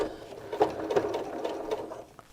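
A sewing machine runs steadily as it stitches quilt pieces together for a Hidden Path quilt, a close, moderately loud mechanical whir lasting about two seconds and fading out at the end.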